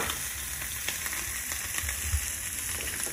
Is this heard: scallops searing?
yes